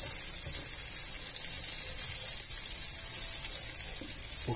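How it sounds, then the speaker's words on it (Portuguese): Garlic frying in pork fat in a pot for rib rice, a steady, even sizzle with a bright hiss running throughout and no talk. "Vamos colocar nosso alho, ó, que nós vamos torrar o nosso arroz e vamos dourar"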